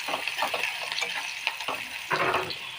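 Onion paste fries in a pan, a continuous loud sizzle broken by stirring scrapes and bursts of crackling.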